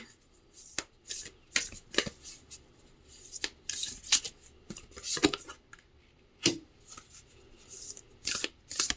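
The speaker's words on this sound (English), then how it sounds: "I'm going to pull a couple other cards from this deck here." A deck of oracle cards is shuffled by hand in crisp, repeated riffling bursts, each a quick papery flutter, with short pauses between them and no talking.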